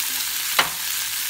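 Tofu sizzles steadily in a frying pan for bulgogi, a close, hissing fry broken by one sharp stirring scrape midway, with no one speaking.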